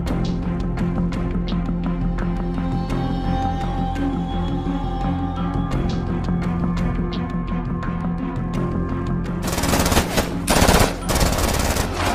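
Gunfire during a firefight between a commander's unit and terrorists in Afghanistan: rapid machine gun bursts and repeated shots crackle loudly over a steady rumble, intensifying into dense, sustained bursts near the end.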